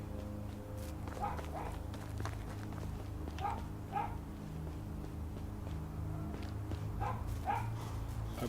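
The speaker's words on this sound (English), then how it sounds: "I apologize for the dog barking in the background." A dog barks in the background on a rural hilltop property, short yelps coming in pairs at a few moments over a steady low droning hum, fairly distant and never loud.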